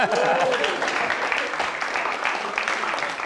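Crowd applause during a public talk on leadership in Nigeria, a thick continuous patter of many clapping hands that stays loud and steady, with a voice speaking over it at the start.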